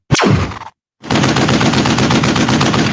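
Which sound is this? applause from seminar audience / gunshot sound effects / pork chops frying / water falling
gunshot sound effects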